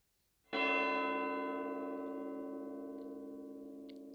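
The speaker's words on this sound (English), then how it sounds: "You've got Christmas bells." A Christmas bells effect from the Incredibox Bells mod: a single bright bell strike rings out sharply after a short silence, then sustains with a long, slowly fading metallic resonance, alone and close.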